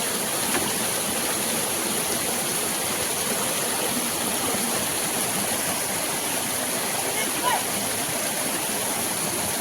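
A stream of flowing water runs where crabs are being caught with tin traps. It gives a constant, full rushing wash at steady loudness, with possible faint voices in the background.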